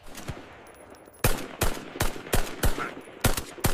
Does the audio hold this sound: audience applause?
no